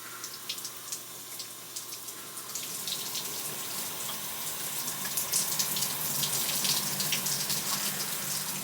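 A bathroom shower runs steadily during a morning routine, a continuous hissing spray of water spattering close by, growing slightly louder as it goes on, with no one speaking.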